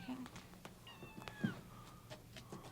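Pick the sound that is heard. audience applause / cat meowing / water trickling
cat meowing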